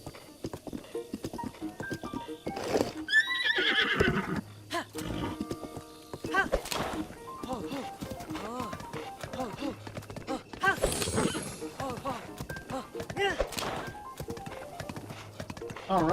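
Horse hooves clip-clop at a steady walking pace in the video game Zelda: Breath of the Wild, with music and game sounds running alongside and a voice talking over parts.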